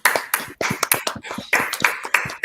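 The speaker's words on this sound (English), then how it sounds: "Now let's give ourselves a round of applause for entering in the era of the metaverse" A few isolated claps and hand taps sound close and sharp in an irregular rhythm, separated by short silences, like scattered participants at an online summit applauding on their own.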